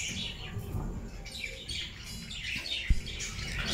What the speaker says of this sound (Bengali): আপনি লাভবার্ডের ডাক শুনে মুগ্ধ হয়ে যাবেন